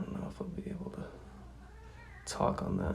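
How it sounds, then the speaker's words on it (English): A house cat meows close to the microphone, a brief strained call near the end that rises over a man's ongoing speech, with softer cat sounds earlier under the talk. "That's my cat, by the way,"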